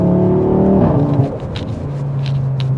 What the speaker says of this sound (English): you got that 5-cylinder that roars, has such a cool sound